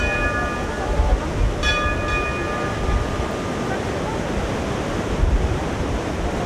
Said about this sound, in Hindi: सरस्वती बह रही थी बहुत ही शोर से और बहुत ही रफ्तार से